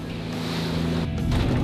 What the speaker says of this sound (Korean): 항구를 벗어나자마자 맞닥뜨린 4m 높이의 너울성 파도